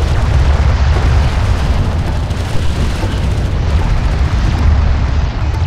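Charges firing in the real-time strategy game Homeworld: Desert of Kharak, a continuous loud roar of rumbling explosions and booms with no pause.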